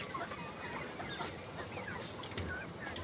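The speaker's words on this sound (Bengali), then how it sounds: "এখানে আপনার 1000 লেয়ারের বাচ্চা আছে।" About a thousand young layer chickens on a poultry farm built on a platform above a pond, a soft continuous chorus of clucks and chirps from many birds at a moderate distance, with no talk.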